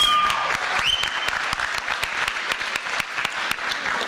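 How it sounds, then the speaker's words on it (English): An audience at a community Democratic club gathering applauds the delegates, sustained steady clapping from a room of people with a few sharper individual claps standing out and a brief tone at the start. "Can you please give them a round of applause, please?"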